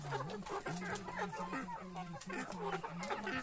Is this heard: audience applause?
no